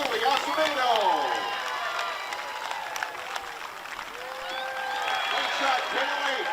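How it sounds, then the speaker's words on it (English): A crowd at a baseball game claps and cheers for a young girl's ceremonial first pitch, steady applause with voices and shouts mixed through it. "Round of applause for Kaylee Acevedo."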